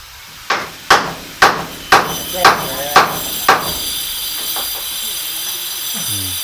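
A hammer strikes wood seven times in an even, loud rhythm during bathroom construction at a house, each blow ringing briefly, followed by a steady hiss and faint scraping.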